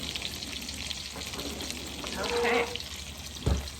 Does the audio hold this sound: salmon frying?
yes